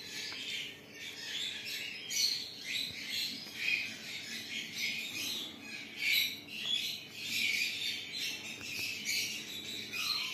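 Pet birds in a breeding aviary keep up dense, continuous chirping and squawking, bright and busy. The calls swell and fade in a steady rhythm with no talking.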